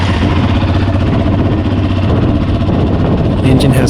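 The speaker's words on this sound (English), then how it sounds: "Fire up the engine and notice how smooth it is at idle." A Yamaha Raptor 700R sport quad idles steadily up close, a loud, even low rumble with a slight throb that holds unchanged throughout.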